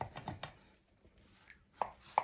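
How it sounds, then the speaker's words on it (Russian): A knife cuts through gubadia, a Tatar layered pie, in a village home: a quick run of close, crisp chops, then a pause and two sharper single cuts, with no talk. "Сразу же нарезает губадию."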